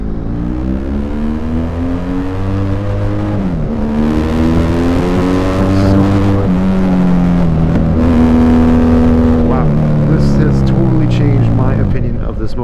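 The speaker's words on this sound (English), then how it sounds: "When I get on a main road where I can open it up, we'll try the higher RPMs." A BMW GS motorcycle's defective Akrapovic aftermarket exhaust roars loud and close, revving up and shifting through gears at high RPM on a main road, with a brief spoken comment over it.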